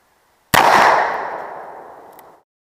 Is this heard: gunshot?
yes